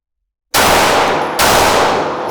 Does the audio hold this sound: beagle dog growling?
no